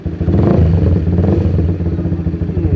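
Motorcycle engine on a test ride after repair for low power, high fuel use and rough running, a loud, close, steady throbbing note with a brief rev near the start.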